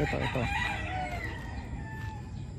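A broodcock rooster in a backyard flock crows once near the start, then quieter clucks and calls from other chickens carry on over steady farmyard ambience.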